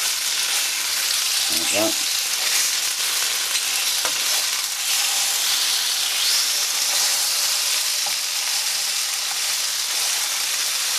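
Spare ribs frying in a pan, a steady loud sizzle and hiss with occasional stirring scrapes, while a person speaks briefly over it.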